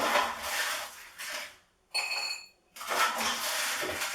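Crispy fried chorizo cubes, about one inch, tumble into a bowl with a clattery rustle, a short pause with a bright ceramic ring, then more crisp clatter.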